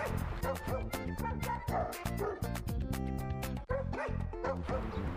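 Several dogs at an animal shelter bark, yip and whimper in a busy overlapping chorus, close and continuous throughout.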